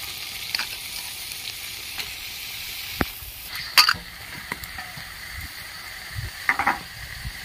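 Boiled banana flower (mocha) sizzling and frying in a pan for a rustic mochar ghonto, with a steady hiss and occasional stirring clinks and scrapes, close and moderately loud.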